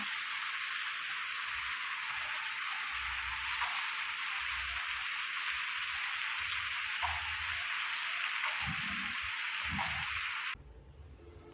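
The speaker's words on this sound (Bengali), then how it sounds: "আরো জোরে বৃষ্টি আসলো" Heavy rain comes down hard in a village home setting, a steady close hiss of rainfall with intermittent low thumps and knocks, ending abruptly into quieter sound.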